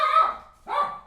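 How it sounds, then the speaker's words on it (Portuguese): A dog gives two sharp, fairly close barks about half a second apart, with a brief quiet gap between them and no other sound. "Olha o cachorro latindo."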